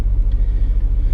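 Car engine idling with the air conditioner running inside the cabin, a loud, close, low rumble with a steady pulsing throb and no talk.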